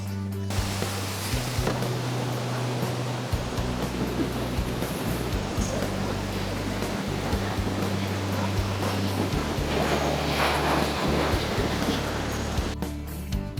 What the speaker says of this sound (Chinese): 这里瀑布挺多的，这里又有一个小瀑布。